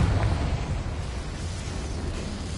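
A Confringo blasting spell goes off in Hogwarts Legacy: a loud, rumbling explosion with a heavy low-end body that rolls on steadily for a couple of seconds, with no voices over it.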